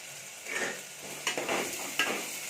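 Onions and green chilies sauté for a crab gravy in a steady, moderate sizzle, punctuated by a few spoon-stirring scrapes against the pan.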